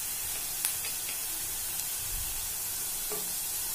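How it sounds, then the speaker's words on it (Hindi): Coriander powder and garam masala sizzle steadily with fried onions in a hot pan for soya pulao, a continuous close hiss of frying broken by a few faint scrapes of stirring. "सभी को मिक्स कर लेंगे।"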